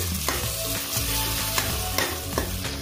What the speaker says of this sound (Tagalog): Ngayon, haluin lang natin para ma-mix at magkaroon ng lasa.